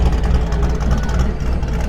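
A classic car idles at an outdoor car club show with a loud, close, steady low rumble that stays even throughout, with no revving.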